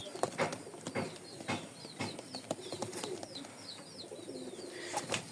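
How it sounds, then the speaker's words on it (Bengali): Faint pigeon cooing and soft chirps under a cluttered background of clicks, rustles and occasional wing flutters, the birds sounding close but quiet. "এখানে 2 জোড়া কবুতর দেখতে পাচ্ছেন"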